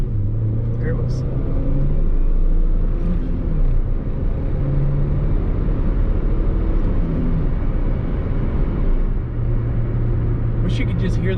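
A manual-transmission Nissan Juke with a turbocharged engine and worn clutch driving along, its low engine rumble and road noise steady beneath someone talking throughout.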